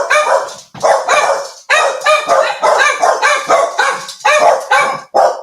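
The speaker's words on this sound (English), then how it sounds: "Right, so I'm just going to let the dogs out a minute." Several dogs barking excitedly as they are let out, loud and close, a rapid overlapping run of barks and yips with no pauses.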